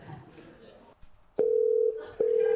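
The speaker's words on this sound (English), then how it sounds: "Good thing we have a working lobster phone for just this occasion" A working lobster-shaped novelty telephone gives a steady dial tone in bursts, broken by a short gap, heard after a moment of faint room noise at a live podcast event.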